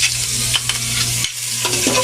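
Garlic sautéing in a hot pan, a steady sizzle with stirring scrapes and clicks of the utensil, no voices.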